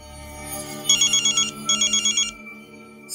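A phone ringtone chirps in two quick bursts of rapid electronic trills over a low background hum, fairly close and loud.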